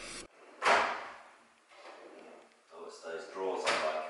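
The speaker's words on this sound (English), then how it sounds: "it's those drawers I like. Are they the ones that kind of close?" A kitchen drawer slides and shuts with a sharp thud, then a softer sliding rattle follows, with people talking quietly nearby between the knocks.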